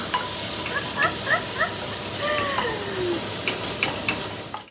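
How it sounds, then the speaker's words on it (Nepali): Puris frying in a home kitchen pan for panipuri, a steady close sizzling hiss throughout with a few short squeaky tonal chirps over it, no talking. "सो अब त्यो भुट्दै गर्नुहुन्छ उहाँले"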